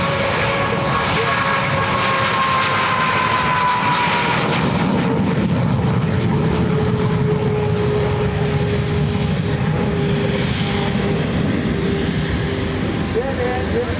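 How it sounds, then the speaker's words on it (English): A loud, steady roar of warbird jet aircraft engines taking off at EAA AirVenture 2024 fills the whole stretch, with a rising whine on top and a continuous rumble underneath. "The jets that are taking off now"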